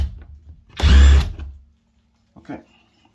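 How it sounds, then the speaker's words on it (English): A single short burst of a power drill whirring up and stopping as it drills into a wooden house door, followed by a faint clunk. "so I'm still gonna drill here"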